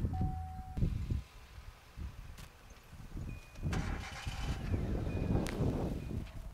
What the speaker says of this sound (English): obviously you want to start the vehicle with the good battery first